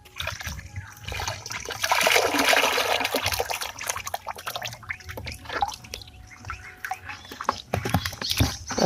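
Water splashes and churns in a rain-filled pond as fish are released into it, with bursts of sloshing and trickling close by, loudest near the start, then a scattering of drips and small splashes.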